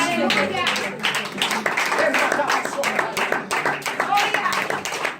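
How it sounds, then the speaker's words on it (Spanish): A church congregation claps and applauds loudly and densely after a prophet's call to praise God, the clapping steady throughout with voices calling out over it. "Hermano, un aplauso fuerte a Dios"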